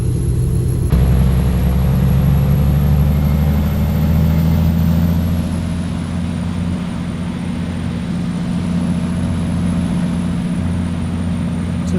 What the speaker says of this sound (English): 665 horsepower Detroit diesel in fourth gear, pulled the hill just fine